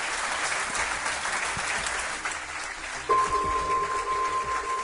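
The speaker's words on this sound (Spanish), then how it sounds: "Un aplauso pido para él." Studio audience applause for Miguel Blanco on a radio programme, a dense, continuous crowd clapping that carries on as a steady tone and music begin to come in beneath it.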